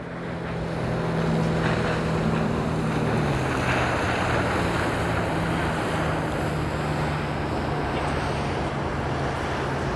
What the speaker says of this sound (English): See all that aquatic activity, boats and water.